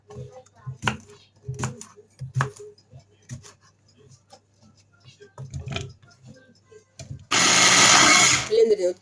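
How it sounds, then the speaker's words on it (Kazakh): Voices talk through the kitchen work amid handling noises, then an electric blender roars loud and steady for about a second and a half, chopping cucumber. "Блендерден өткізіп алам қиярды."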